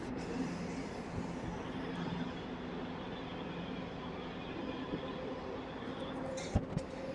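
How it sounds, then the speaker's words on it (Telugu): DEMU passenger train running after pulling out of Bolarum station, heard from inside as a steady low rumble and hum of the moving carriage, with a couple of brief clunks near the end. "బొలారం నుంచి మన ట్రైన్ బయలుదేరిపోయింది"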